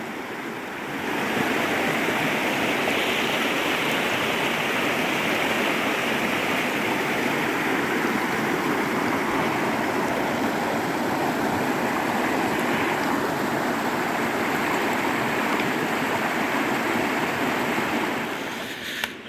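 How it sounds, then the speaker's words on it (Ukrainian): Limnytsia river in the Carpathian mountains, heard as a continuous broadband rush of flowing water, loud and close and steady throughout with no voices. "Річка Лімниця, ну не знаю як зараз але раніше була найчистіша у Європі."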